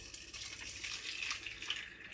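Water poured from a kettle into a cooking pot, a steady splashing trickle lasting a couple of seconds with no talk over it, fairly faint.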